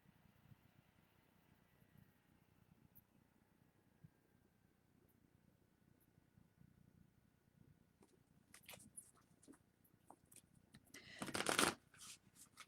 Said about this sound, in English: I'm going to give these cards a quick little shuffle.